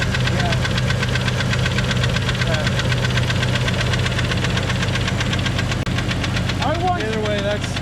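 Engine with a worn main bearing knocks steadily and loudly in a junkyard full of classic cars, a continuous rapid metallic clatter over the running motor, with voices briefly heard near the end.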